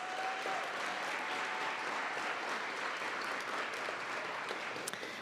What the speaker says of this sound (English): Let's give a huge round of applause for all of our amazing artists.